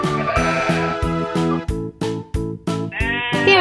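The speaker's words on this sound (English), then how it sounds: "The first animals to arrive are the sheep." Sheep bleat in a rapid, evenly spaced series of loud, nasal baas, close and with no talking, heard in a farm-animal toy play scene.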